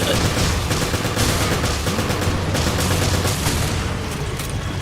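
Dense gunfire and explosions in the video game Resident Evil Revelations raid mode, a continuous loud fusillade of rapid shots and booms that fills the whole stretch.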